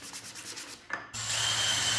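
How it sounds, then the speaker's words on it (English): Wood being hand sanded after chamfering, parts for a French cleat hand plane till, a few quick rhythmic scratchy rubs, a short pause, then a steadier close abrasive rasp. "then a quick chamfer and sanding on everything before getting attached"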